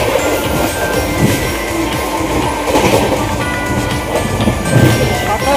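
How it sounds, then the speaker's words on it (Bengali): A passenger train runs at speed through open Indian countryside, its loud rumbling rattle steady and close, with a clanking burst near the end and no talking. "গতিবেগে ট্রেন চলছে"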